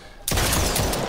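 A gunshot in the VR shooter The Brookhaven Experiment, a sudden loud blast after a quiet moment followed by a dense burst of sustained firing noise lasting under a second, close and harsh.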